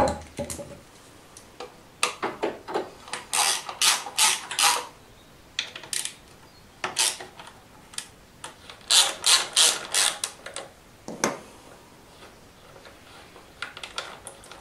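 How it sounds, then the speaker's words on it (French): Two screws being backed out of a scooter's plastic air box housing, the kind found on a Typhoon, Stalker or Zip, give off a series of close, dry ratcheting clicks in irregular bursts with short pauses between them. "Vous les desserrez, vous les retirez complètement."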